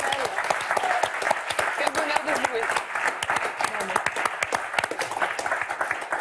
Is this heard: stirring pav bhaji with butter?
no